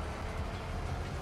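A train passes in Farming Simulator 22 as a low, continuous rumble with a faint rolling rattle, steady and moderately quiet throughout, with no speech.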